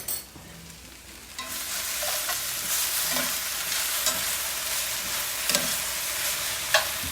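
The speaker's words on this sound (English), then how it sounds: "Starting to get a nice sear, nice caramelization on these Brussels sprouts." Brussels sprouts sear in a hot pan with a steady, loud sizzle, broken by occasional clicks and scrapes of stirring.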